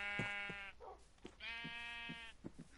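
Sheep in Minecraft bleating close up, giving two or three drawn-out, quavering baa calls separated by short pauses. No other sound competes with the calls.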